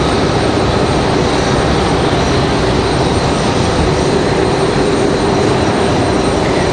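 A United Boeing 737-700 jet bound for Washington Dulles passes at Raleigh-Durham International Airport. Its engines make a loud, continuous roar with a faint high whine riding on top, steady throughout.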